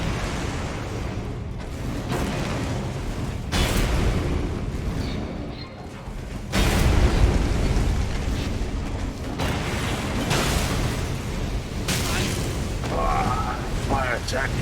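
Bombs go off during a boss fight in the video game Elden Ring, set in Storm Hill Catacombs: several loud, deep booms burst out over a steady rumble of game sound and effects.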